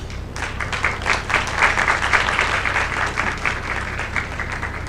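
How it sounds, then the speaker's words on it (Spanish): An audience at a violence-prevention forum in Cali applauds with a moderate, continuous patter of many hands that swells briefly and then holds steady. "Un aplauso, por favor."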